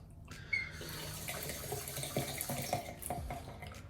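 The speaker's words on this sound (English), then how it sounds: "Rinse the blade as often as possible, because you obviously want to avoid any sort of clogging." Tap water runs steadily while a Schick Hydro stubble-remover razor blade is rinsed beneath it, with a few small knocks and clicks over the continuous flow.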